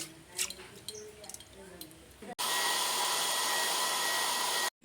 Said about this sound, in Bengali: চাল ভিজে গেছে, এবার চালটাকে বেটে নেব।